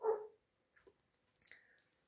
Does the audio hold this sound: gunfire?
no